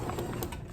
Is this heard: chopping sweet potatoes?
no